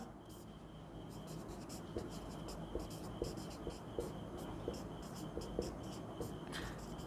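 A pen or pencil writes numbers by hand on paper, producing faint, soft scratching strokes and light taps spread evenly through the clip, quiet and close with no talking.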